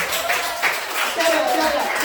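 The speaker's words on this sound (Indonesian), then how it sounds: "tepuk tangan dulu untuk semuanya" A classroom group in a school coaching session claps together, a brief, loose burst of hand claps mixed with talking voices, moderately close.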